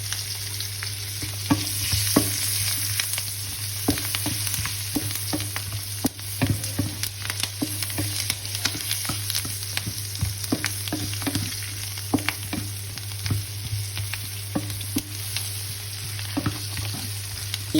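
Garlic and lemongrass fry in a hot pan for a Filipino balbacua, a steady close sizzle broken by frequent clacks and scrapes of a stirring utensil, with a low constant hum underneath.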